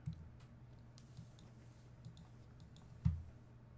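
Mouse clicks while working in PDF software, two faint sharp clicks spaced a few seconds apart over quiet room hiss.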